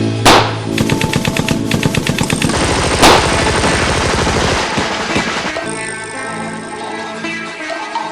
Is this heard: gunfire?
yes